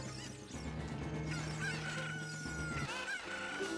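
Clucking and crowing from a chicken in The Legend of Zelda: Ocarina of Time, a few bright calls layered over continuous game background music at low volume.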